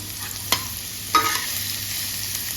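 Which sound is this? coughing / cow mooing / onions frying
onions frying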